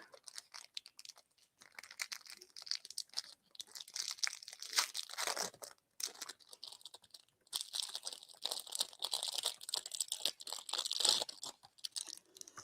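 Plastic packaging around small charms with lobster-claw clasps being opened, steady crinkling and rustling near by, quiet and irregular throughout.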